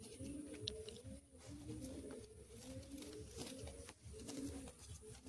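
Pigeons at a pigeon sale in Bagnan cooing in repeated low, throaty rolling phrases, close and steady, with faint ambient rustling behind them and no talking.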